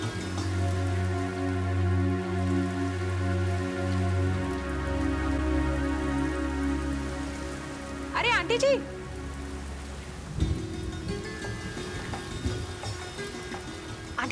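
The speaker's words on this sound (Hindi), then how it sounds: "देखिए क्या बारिश है" Steady rain falls in a continuous patter beneath an ongoing music or tonal bed, with a voice speaking briefly partway through.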